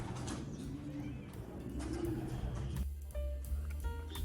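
A racing pigeon in a loft coos in soft, low, rolling phrases close by, repeated several times, with a little chirping and faint voices in the background.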